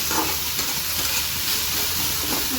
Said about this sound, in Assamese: ভাজি লওঁ